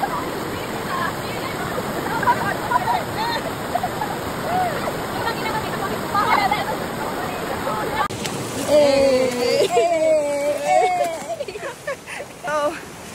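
Waterfall and a flowing river on a mountain climb, a steady broad rush of water throughout, with voices talking over it in the second half.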